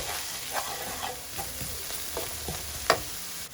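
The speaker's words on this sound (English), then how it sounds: "this is when I am going to add a couple of cloves of garlic which I've grated here and just cook for a minute" Grated garlic frying in oil in a pan for a vegan bean and chickpea stew curry, a steady close sizzle broken by occasional stirring scrapes, one sharper scrape near the end.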